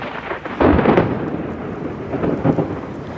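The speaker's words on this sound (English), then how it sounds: "Wow, and the rain's coming down." Heavy rain pours steadily in Naples while low thunder rumbles, with a stronger roll near the start, and no one speaks.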